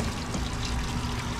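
Laundry detergent is poured into a washing machine while it fills with water, a soft steady trickling pour, faint and close.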